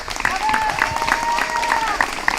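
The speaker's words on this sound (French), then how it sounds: "un tonnerre d'applaudissements pour elle" A crowd applauds at an outdoor harvest-festival gathering in Limoux, sustained clapping mixed with crowd noise and a few whistles or shouts rising above it.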